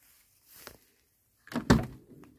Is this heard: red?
no